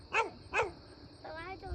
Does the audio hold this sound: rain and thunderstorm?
no